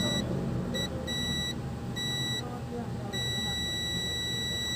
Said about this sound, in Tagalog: Pag binaliktad mo at nag-buzzer pa rin.